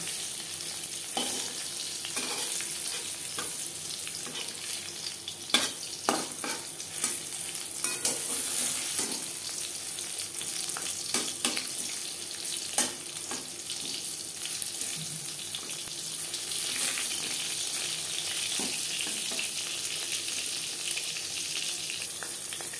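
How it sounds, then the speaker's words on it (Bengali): Pieces of pointed gourd (potol) frying in oil for a traditional Bengali tel potol, a continuous close sizzle with scattered sharp crackles and clinks of stirring throughout, no voices. "একটা সাইড ভাজা হয়ে গেলে অপর সাইডটা উল্টে দেব।"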